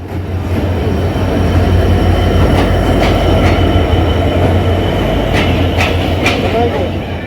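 Steady, loud rumble of the Ruposhi Bangla Express running on the Jashore to Dhaka line in Bangladesh, heard from inside an AC compartment, with occasional faint metallic clicks and squeaks and indistinct voices in the background.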